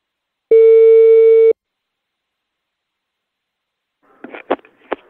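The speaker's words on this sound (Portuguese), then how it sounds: "Eu vou ligar agora pra Dona Prudência" A telephone call on the line, a single steady electronic tone lasting about a second, then silence, followed by a few faint clicks and rustles near the end.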